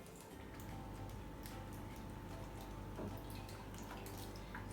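Milk poured steadily into a glass while making Dalgona Milo, a continuous close splashing trickle lasting the whole stretch with no talk over it.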